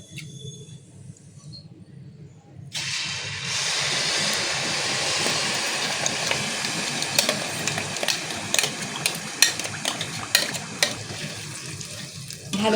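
Homemade paste hits warm coconut oil for a hair-care oil, and a loud, close sizzle suddenly starts and holds steady, with scraping stirs and light pops over the crackle after a quieter opening.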